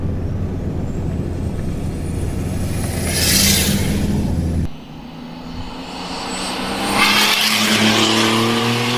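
A turbocharged ute engine roars close and loud, its turbo spooling with a rising airy whistle that swells twice, with a sudden drop in the middle before the whine builds again; no voices.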